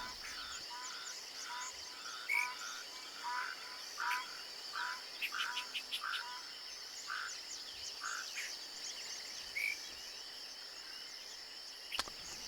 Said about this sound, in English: Hearing all the frogs chirping, birds chirping.